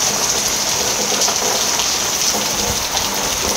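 Steady rain pours down continuously, a dense even hiss of drops hitting surfaces close by, with no voices and no pauses.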